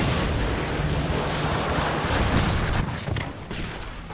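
Predator missile strike in Call of Duty: Modern Warfare 2 on PC, a dense roaring blast of explosive rumble and crackle that fills the whole clip at steady loudness before easing slightly near the end.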